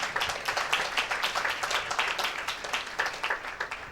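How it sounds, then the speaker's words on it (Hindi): A church congregation applauds, a dense, continuous wash of many hands clapping at once, steady and fairly distant, filling the whole span without speech. "क्या जोरदार ताली दे सकते हैं?"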